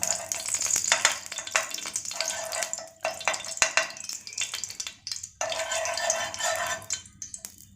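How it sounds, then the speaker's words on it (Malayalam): Mixed nuts frying in a teaspoon of ghee in a pan, a crackling sizzle that swells and fades with intermittent stirring scrapes, fairly close and with no talking. "നമ്മൾ ഇട്ടിട്ടുള്ള നട്ട്സൊക്കെ ഇതപ്പോൾ നന്നായിട്ട് ഫ്രൈ ആയി വന്നിട്ടുണ്ട് കേട്ടോ"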